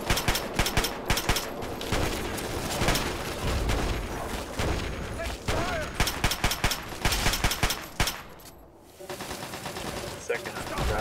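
Rapid gunfire in the video game Fallout 3, dense bursts of loud shots and automatic fire crackling almost continuously, with a short lull before more shooting; voices shout over the fighting.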